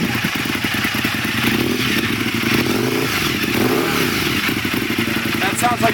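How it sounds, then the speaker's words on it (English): A Harley motorcycle with straight-pipe exhaust and no muffler revs loudly nearby, its rough, pulsing rumble rising and falling, while people talk over it. "That's like Harley's straight pipe."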